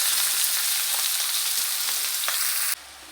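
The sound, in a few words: cabbage and potato frying in a pan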